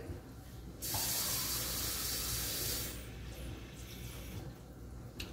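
A cup being filled with water at a sink tap while making flaxseed gel, a loud steady rush of running water for about two seconds, then quieter trickling and handling sounds.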